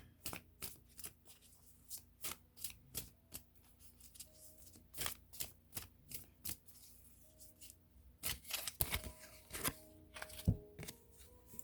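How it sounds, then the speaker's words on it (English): Tarot cards from an Angel Tarot deck being shuffled and drawn, with a run of crisp, papery riffles and flicks that come close and fairly quiet at first, then grow busier and louder toward the end, with no voices. "And I'm going to pull the last card from the Angel Tarot deck."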